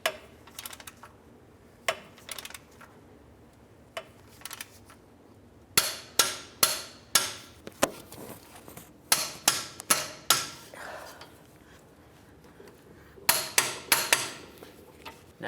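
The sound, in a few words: torque wrench tightening Toyota Solara control arm bolts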